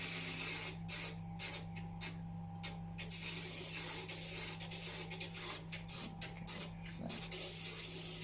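Sapphire ground wet on a used 1200-grit faceting lap, a steady close hiss and scrubbing rasp broken by frequent short gaps as the stone is lifted, over a constant low machine hum.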